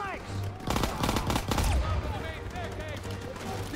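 Rapid machine gun bursts and scattered gunshots ring out in a Call of Duty: WWII battle, loud and dense, with game voices and combat chatter mixed underneath.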